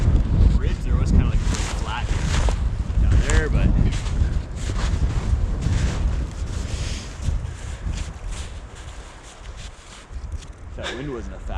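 Wind gusting and buffeting hard against the microphone at a high, exposed campsite out on open bison range, a steady loud rush with voices talking over it throughout.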